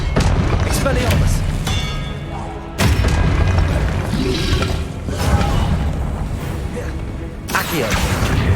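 Spell blasts from the Hogwarts Legacy video game land as loud booming impacts amid continuous combat noise, with sharp bursts near three seconds and again near seven and a half, under a shouted voice.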